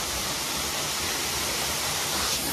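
A waterfall roars steadily as a dense, unbroken broadband rush, loud and close, with nothing else standing out.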